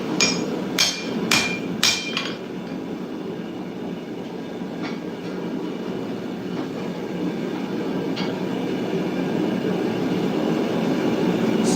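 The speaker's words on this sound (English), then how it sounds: "But we also need to make sure we hammer that down, because as you hammer it here, it likes to mushroom." Hammer blows on hot steel while forging a Nordic khopesh: a quick burst of several sharp, ringing strikes in the opening seconds, then one fainter strike later, over a steady loud roar of forge background.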